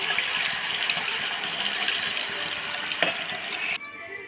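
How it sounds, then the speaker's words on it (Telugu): Tamarind extract poured over raw fish pieces for fish pulusu makes a steady, gushing liquid splash that runs for several seconds and then stops abruptly. "దానికి సరిపడింది చింతపండు పులుసు పోయేసుకుందామండి ముక్కల్లో."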